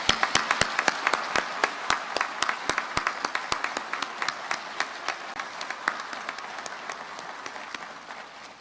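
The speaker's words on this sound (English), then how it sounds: "Please join me in a round of applause for your officer candidates." Applause from the audience at an Army Officer Candidate School graduation, with sharp individual claps standing out over a dense steady patter that slowly fades toward the end.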